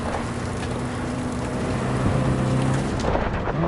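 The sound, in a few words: thunderstorm in Cyberpunk 2077 video game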